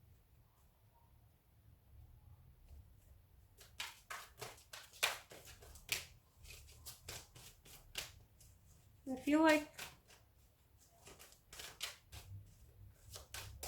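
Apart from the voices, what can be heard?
shuffling cards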